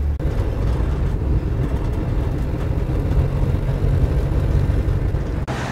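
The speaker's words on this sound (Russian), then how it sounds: "трамвай вот сюда и приезжает, это самый центр Синтры" A historic tram rumbles steadily through the centre of Sintra, Portugal, a continuous low mechanical drone of wheels and motor that stays close and even throughout, with no voices over it.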